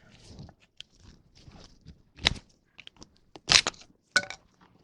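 Brittle grease shield being prised out of a classic Austin Mini front hub, giving a few sharp cracks and snaps spaced over several seconds, the loudest near the end, with quieter scraping and tool handling between.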